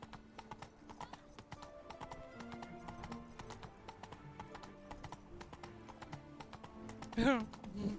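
Horse hooves clip-clop in the Witcher 3 video game, a fast steady gallop of close, sharp hoof strikes under intermittent talk, ending with a short neigh near the end.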